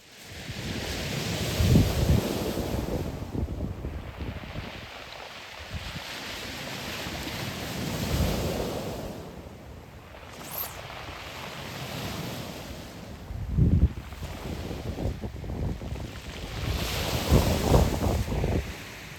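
Strong side wind buffets the microphone on a beach during shore fishing, rushing and gusting continuously over the steady wash of surf, loudest in several gusts.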